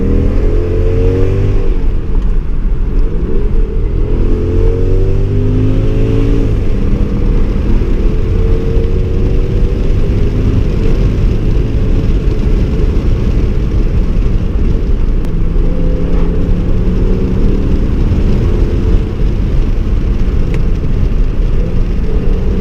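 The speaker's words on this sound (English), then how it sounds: "Let's open up this V10 a little bit." A 2009 Audi S6 with its V10 engine climbs through the revs, loud and close, with rising gear pulls and brief dips between them.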